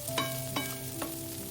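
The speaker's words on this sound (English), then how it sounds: "Then we add the sliced onion and stir fry for another 30 seconds." Garlic and sliced onion stir fried in oil for a tofu and pepper dish, a steady close sizzle under a low hum, with three distinct spatula scrapes at even intervals.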